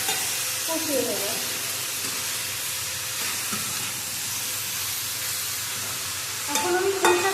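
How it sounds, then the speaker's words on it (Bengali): Mixed vegetables being stir-fried in a pan for panchmeshali sobji, a steady broad sizzle with a few scraping stirs near the start and a louder burst of frying toward the end, close and continuous. "এবারে ভালো করে এবার কষিয়ে দেবো।"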